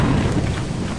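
Thunderstorm in the video game Lethal Company: a steady wash of heavy rain over a low rolling rumble of thunder, loud and continuous, with no voices.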